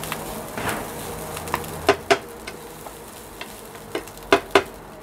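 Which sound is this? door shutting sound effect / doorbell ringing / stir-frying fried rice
stir-frying fried rice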